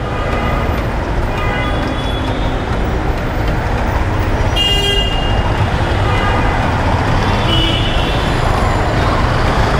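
Dense, loud traffic jam of buses, rickshaws and CNG auto-rickshaws under the metro rail in Mirpur, with a constant engine roar and horn toots sounding throughout.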